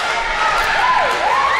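Wrestling crowd at an indoor show cheering and shouting in a steady, dense roar, with a high whistle-like tone rising and falling through the middle.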